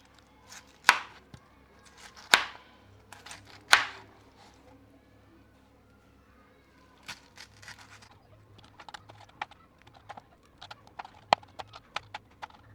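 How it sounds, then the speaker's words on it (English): Knife chopping through a pineapple colada cake on a board, three loud, separate cuts early on, followed by quieter, scattered knocks and taps. "So now we are going to cut it into pieces."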